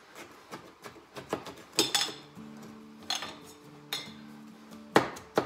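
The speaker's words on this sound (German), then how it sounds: "Einfach nur ein wenig klein hacken." A knife finely chops feta cheese, producing a quick series of close, crisp knocks and scraping taps on a board, uneven in rhythm with short pauses between bursts.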